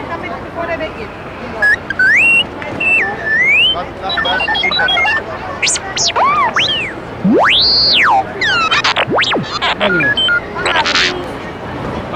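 R5 astromech droid from Star Wars at a cosplay and science-fiction event, giving rapid electronic chirps, warbling whistles and sweeping beeps in bursts over a noisy crowd, fairly loud and close.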